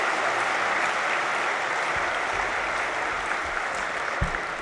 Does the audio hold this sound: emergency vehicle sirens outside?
no